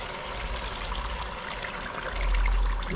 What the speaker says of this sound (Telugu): ఇదిగో పులుసుని చక్కగా పోసుకున్నాను